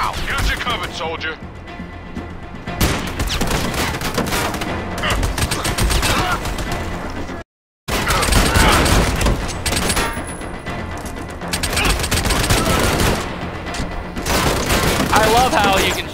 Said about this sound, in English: I need some damn support fire now!